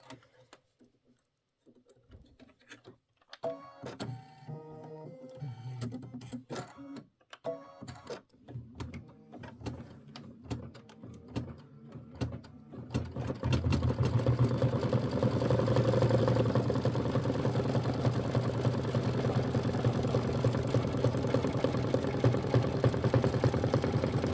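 An embroidery machine stitches a small flamingo and umbrella quilt block, first with sparse clicking and tapping, then settling into a loud, steady rapid buzzing of needle strokes.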